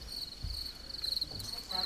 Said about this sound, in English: You hear birds whistling, crickets.